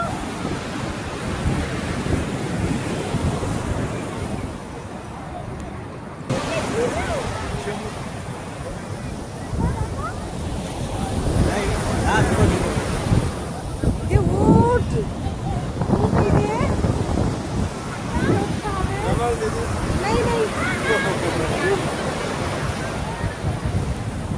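Sea waves surge and wash onto the beach at Puri in a continuous, loud roar with wind buffeting the microphone, while people's voices mingle faintly in the background.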